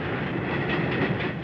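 A train rolls across the old 1860s Grosvenor railway bridge over the Thames, a loud continuous rumble with a rhythmic clickety-clack of wheels and a faint hiss.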